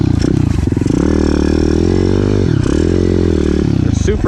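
Kawasaki KX250F dirt bike ridden on a cold trail, its engine loud and close with a buzzing revving tone that rises and dips as the throttle changes, plus some clatter near the end.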